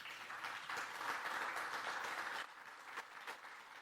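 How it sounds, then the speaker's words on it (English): Audience applause for presenters at a Wednesday-morning community session: a steady wash of many hands clapping, moderately loud for a few seconds, then thinning to fewer, sparser claps. "Let's give them another round of applause."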